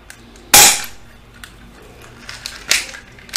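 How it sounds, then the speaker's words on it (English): An Elite Force HK VP9 airsoft pistol fires, with two sharp close cracks a couple of seconds apart and a few lighter clicks and taps between them. "Okay, so I'm gonna shoot a full magazine of these and see what happens afterwards."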